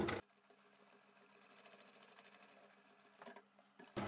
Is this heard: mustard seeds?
no